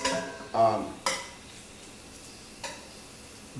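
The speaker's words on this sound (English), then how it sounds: "I'm going to just kind of saute all this fat, and it's going to release some of those oils." Fat trimmed from a chuck roast sautés in a pan for carne guisada: a utensil scrapes and clinks a few times at close range over a soft, steady sizzle, with no speech.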